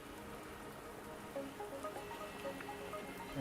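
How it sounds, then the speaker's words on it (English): Soft rain patters in the Wuthering Waves video game, a faint, steady shower with scattered individual droplet ticks over a quiet background, no talking. "The rain won't last much longer."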